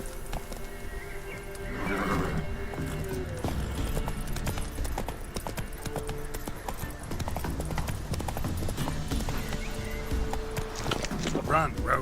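Geralt's horse Roach gallops in the video game The Witcher 3: Wild Hunt, with rapid hoofbeats and a loud neigh over game music and sound effects, while voices talk over it.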